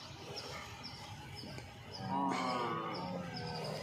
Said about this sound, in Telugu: బన్నీ జాతి గేదె అన్న, బన్నీ జాతి గేదె